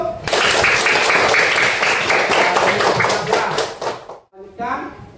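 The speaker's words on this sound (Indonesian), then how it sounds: "Nah, tepuk tangan dulu" A classroom of children claps together in a loud, sustained burst of applause for about four seconds, then it stops abruptly and a voice speaks briefly.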